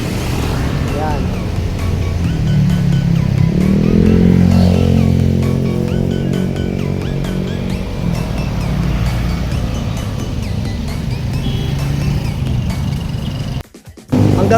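A motorcycle rides through Salawag in Dasmariñas City, Cavite, its steady engine drone and rising rev harmonics continuous and close, with passing road noise, a brief dropout near the end, and someone talking over it.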